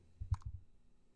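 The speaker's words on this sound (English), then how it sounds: "And let's click enter." A few quick, close clicks of keys on a computer keyboard, with the Enter key pressed in a short cluster, then quiet room tone; no speech.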